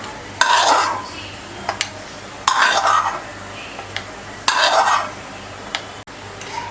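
Beetroot sautéed in ghee in a pan with a spoon, three loud bursts of scraping and stirring against the pan with soft sizzling and a few light clinks between them, no talking.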